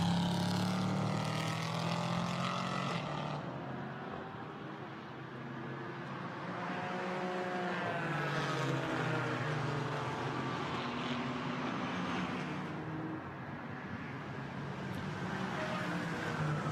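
A Porsche GT4 race car on the wet Spa circuit, its engine note rising and falling through gear changes as it passes, a continuous loud mechanical drone with shifting tones and a slight dip midway.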